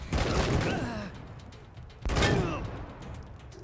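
A turret opening fire in the video game Wasteland 3 during an ambush, two strong bursts about two seconds apart, each trailing off, with a player's voice over the shots.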